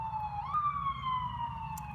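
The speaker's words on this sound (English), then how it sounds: "Oh, is that an ambulance?" Ambulance siren passing at a distance, a steady wailing tone that dips in pitch as it goes by, heard faintly over low traffic rumble.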